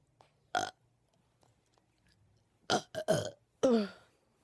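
A girl lets out a short burp, then a pair of quick burps and a longer final belch, each loud and close against a quiet room.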